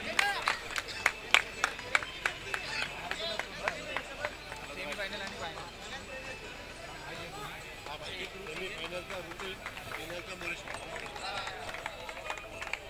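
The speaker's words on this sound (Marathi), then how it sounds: "टाळ्यांचा गजर चॅम्पियन संघासाठी." A crowd claps for the champion team at the Nandivali Premier League 2024 cricket prize distribution, a steady outdoor applause with a few sharper claps early on, heard beneath someone speaking over a loudspeaker.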